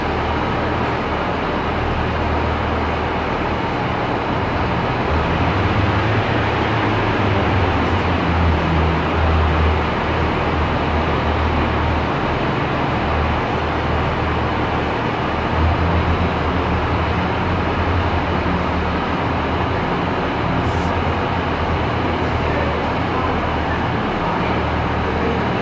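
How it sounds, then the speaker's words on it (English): A two-car Pacer diesel train pulls out of Manchester Victoria bound for Stalybridge, a loud continuous engine rumble and rolling noise that holds steady throughout with no clear breaks. "Now leaving, we're going to have the 11:29 service bound for Stalybridge,"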